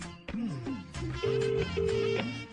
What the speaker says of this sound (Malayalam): ഫോൺ അടിക്കാൻ തോന്നുന്നു